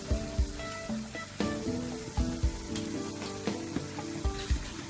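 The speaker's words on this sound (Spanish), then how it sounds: "También le doy una vueltecita que se integre, que se fríe un poquito." Serrano ham sizzling in a pan with sautéed broccoli, the frying steady beneath repeated sharp scrapes and knocks of a spatula stirring the mix.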